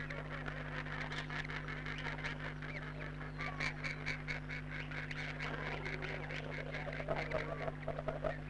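Waterbirds at Cullens Lake in Victoria, black swans, coots and grey teal, honking and calling in a dense, continuous chorus, moderately distant, over a steady low hum.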